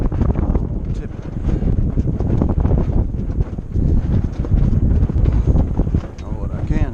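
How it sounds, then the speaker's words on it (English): Strong wind blowing past a sailboat under sail buffets the microphone with loud, continuous roaring gusts, and a voice is heard in the background now and then. "Here comes the wind, folks."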